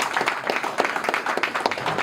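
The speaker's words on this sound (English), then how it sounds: "a big round of applause for Corin for spending the night with us." A small audience at a bonsai society meeting claps for a visiting speaker, a brief, fairly faint patter of individual hand claps lasting about two seconds.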